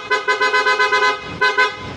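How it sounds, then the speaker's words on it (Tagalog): Loud electric horn on a Honda Click scooter, sounded in a string of short rapid toots, then a brief pause and two more blasts, close and harsh. "Tapos merong malakas na busina."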